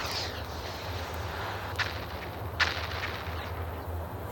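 Missiles launching in a flight simulator game set over the Grand Canyon, heard as two sharp bursts over a steady aircraft engine drone.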